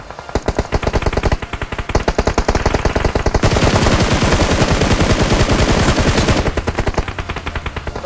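Rapid automatic gunfire from the PUBG Mobile battle royale game rattles in dense bursts, with a sustained stretch of continuous firing in the middle and sharp, evenly spaced shots before and after.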